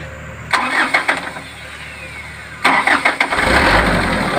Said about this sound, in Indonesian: Hidupin mesinnya.